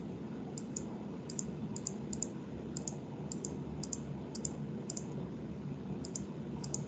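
Computer mouse clicks in pairs at an irregular steady pace while a polygon boundary is traced on a map, quiet and close over a soft background hiss.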